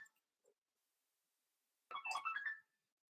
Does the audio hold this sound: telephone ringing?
yes